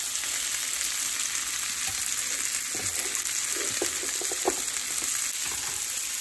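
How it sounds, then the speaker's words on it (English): Rice noodles with peanuts and cashews sauté in a hot pan, giving a steady loud sizzle with occasional stirring scrapes and taps. "Just gonna saute all this together."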